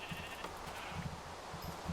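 Sheep in Minecraft bleat faintly a few times in short wavering calls, set against a low steady game background.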